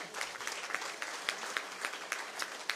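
Applause from an audience at a Tamil public talk, with a minister seated in front: steady, moderately loud clapping that runs the whole moment and is punctuated by a few sharper individual claps.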